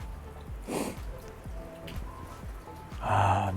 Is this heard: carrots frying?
no